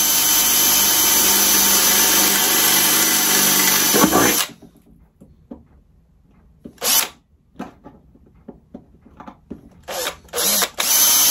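A power drill with a 4 mm bit bores a pilot hole while a remote stop/start control box is fitted to a Record Power CL4 lathe. A loud, steady drilling run stops after about four seconds, followed by brief scattered bursts and handling noises.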